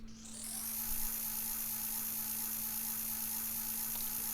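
A simulated model train engine in SCARM train simulator software hums steadily at an even idle, a constant mechanical drone that starts quietly and holds level with no talking.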